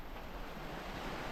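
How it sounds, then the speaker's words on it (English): Rushing river water at Silver Falls gives a steady, broad roar of turbulent flow, constant throughout with no voices over it. "look how much the water's rushing her."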